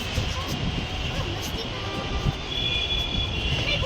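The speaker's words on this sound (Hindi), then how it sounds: "हमारे घर के सामने से जाता है मेट्रो, जो बहुत ही खूबसूरत लगता है" A metro train passes in front of a house, making a steady, loud rumbling roar with a faint whine. It runs continuously under someone talking.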